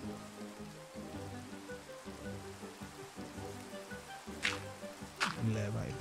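Steady rain pours down in the Lilyville video game, a continuous wash of hiss running under layered game music with a couple of brief sharp bursts near the end.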